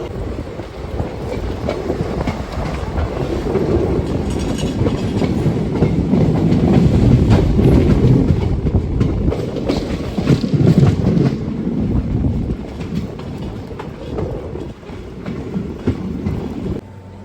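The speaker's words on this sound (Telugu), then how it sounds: "జస్ట్ ఇప్పుడే మన రేణిగుంట రైల్వే స్టేషన్ ప్లాట్ఫామ్ 3 నుండి మన బండి అయితే మూవ్ అవుతుంది." Padmavathi Super Fast Express pulling out of platform 3 at Renigunta railway station, a steady loud rumble of wheels and carriages with some clickety-clack and wind buffeting on the microphone throughout.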